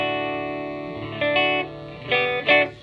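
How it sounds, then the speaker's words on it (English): A Gibson ES-5 electric guitar played through a Fender Twin amp rings out alone with sustained chords and a few picked notes, fairly loud and clean with slight reverb. "this was his guitar that he had along with his Fender Twin-Amp."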